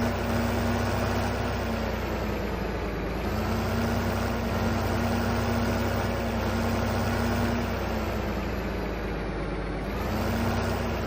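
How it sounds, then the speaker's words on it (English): A Case IH Steiger tractor engine idles in Farming Simulator 15, a steady low diesel rumble with a constant hum that holds at an even level for the whole stretch, with no talking. "Case has a premium line of tractors that they've put the Steiger name on. And this is one of them."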